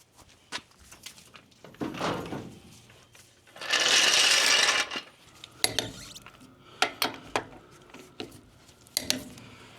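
A torque wrench tightens trailer wheel bolts during a tire repair and full trailer service, giving sharp, scattered ratcheting clicks up close, with a loud, steady burst of rushing mechanical noise partway through.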